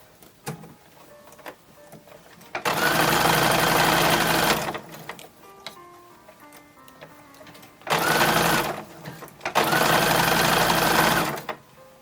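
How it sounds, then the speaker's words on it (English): A sewing machine stitches binding onto the sleeves of a 1910s-1920s style toddler summer dress, running in two long loud bursts with quieter handling noises between them. "Sewing on the binding on the sleeves."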